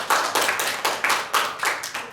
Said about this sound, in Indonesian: Untuk selanjutnya kita beri tepuk tangan terlebih dahulu kepada kelompok 2.